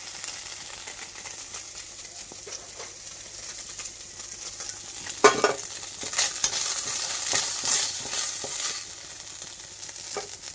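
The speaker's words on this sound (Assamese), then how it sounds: "অকণমান খৰকৈ ভাজি দিছোঁ মানে মাছখিনি।" Small fish frying in hot oil in a wok for a ginger-leaf fish curry, a steady crackling sizzle close by with scraping stirs and a louder burst midway, no talking.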